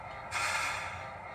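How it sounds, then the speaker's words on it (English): A short burst of hissing air, a GP20ECO locomotive's air let-off in a video game, cuts in sharply and holds steady over a low background rumble. "F19 is a short air let-off."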